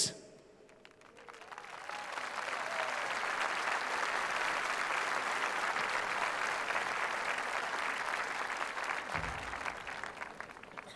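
A huge outdoor crowd at the closing concert of the 2018 Latvian Song Festival in Mežaparks breaks into applause that swells quickly and holds as a dense, steady roar for several seconds before easing slightly.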